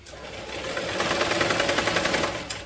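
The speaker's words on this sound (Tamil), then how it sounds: "இப்போ பேக் ஸ்டிச் போட்டு நீங்கள் ஸ்டார்ட் பண்ணுங்க." A sewing machine runs a back stitch on waste cloth for a doormat, with a steady, close, rapid rhythmic clatter that builds and then stops near the end.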